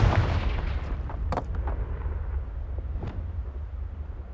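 A Confringo blast spell goes off in the Hogwarts Legacy video game, a heavy explosive boom with sharp cracking impacts and a rumbling tail that slowly dies away.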